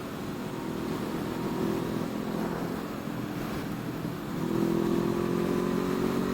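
A Honda CB500F motorcycle engine drones steadily while riding, then rises in pitch and loudness as it accelerates, heard alone without talk.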